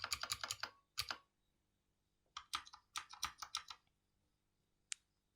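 Typing an address into a document on a computer keyboard: close, crisp keystrokes come in quick bursts separated by short pauses, with a single isolated click near the end.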